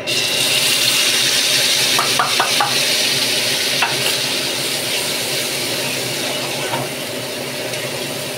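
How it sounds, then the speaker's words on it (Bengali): Spice paste for a spicy pomfret curry frying in hot oil, tempered with cumin and nigella seeds, gives a steady close sizzle with a few brief stirring scrapes and clinks, no talking. "যে মশলাটা আমি রেডি করে রেখেছিলাম পেস্টটা, সেটা আমি এখন এই তেলের মধ্যে দিয়ে দেব।"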